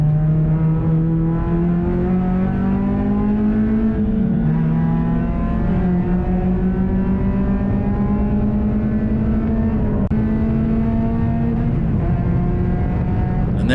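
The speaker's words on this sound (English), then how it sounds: "That is a lap of Carolina Motorsports Park at the start." A ChampCar endurance race car laps Carolina Motorsports Park, its engine droning loud and close throughout, pitch climbing through gears with shifts and dips around corners, a constant buzzing roar with no talk.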